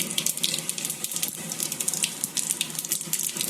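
Cumin seeds hit hot oil in a pan before potatoes and pumpkin go in, giving a steady crackling, hissing sizzle with bright spitting pops throughout, close and moderately loud with no talk.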